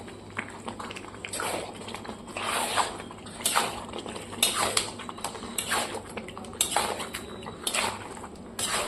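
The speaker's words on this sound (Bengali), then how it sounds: "এরপর আমি অ্যাড করে দিচ্ছি মাটন, খাসি মাংসটা এর মধ্যে অ্যাড করে দিচ্ছি। এবার এটাকে খুব সুন্দরভাবে কষিয়ে নেব।" Mutton being stir-fried in spice masala in a pan, a metal spoon scraping and clinking against the pan in uneven bursts over a low sizzle, close up and with no talking.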